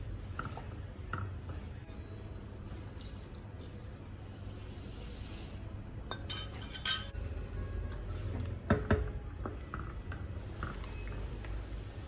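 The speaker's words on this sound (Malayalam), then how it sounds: "അത് അല്പാൽപമായിട്ട് ഈ പാൽ, ചൂടായിക്കൊണ്ടിരിക്കുന്ന പാലിലേക്ക് ചേർത്ത് ഇളക്കി കൊടുക്കുക" A spoon stirs rice flour into hot milk in a pot, with faint scraping and occasional sharp metallic clinks against the pot, quiet and irregular, with no talking.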